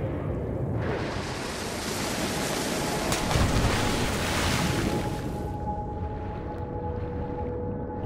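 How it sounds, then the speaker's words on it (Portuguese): Waterfall in the Far Cry Primal video game, a loud broad rushing roar of falling water that fades off toward the end. "cachoeira"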